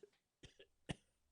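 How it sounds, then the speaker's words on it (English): A few short, faint coughs in quick succession, close and quiet, with no other sound around them. "and he began to cough"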